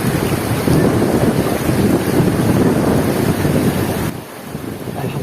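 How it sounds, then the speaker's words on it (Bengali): Clear water of a stream among white stones at Bholaganj, Sylhet, rushes past in a loud, steady wash, with wind buffeting the microphone and no talking. "চলুন আমরা স্বচ্ছ পানির স্রোতধারার শব্দ শুনি।"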